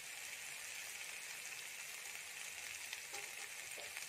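Tomatoes sizzle steadily in a hot pan for a small stuffed brinjal curry, a continuous, even frying hiss throughout with no talking.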